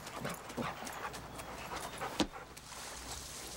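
Dogs panting close by, with light rapid footfalls and a sharp knock partway through, fairly quiet overall.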